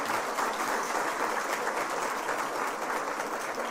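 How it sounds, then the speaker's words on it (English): A room full of attendees at a women's symposium claps continuously, a thick, even wash of applause that holds steady throughout without any voices over it. "a big round of applause for you"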